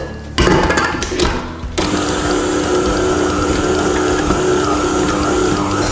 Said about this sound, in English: now it's time to get your stand mixer and your dough hook, and we're going to need it for around 8 minutes